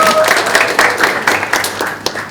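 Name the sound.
audience applause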